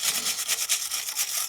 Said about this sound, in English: we will go over with a steel brush to kind of get oxidation, rust, surface rust out of there